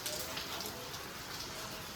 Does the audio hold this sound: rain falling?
yes